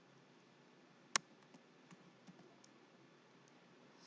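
Faint, sparse keystrokes on a computer keyboard: one crisp click stands out, followed by a few soft, scattered taps over a quiet room hiss.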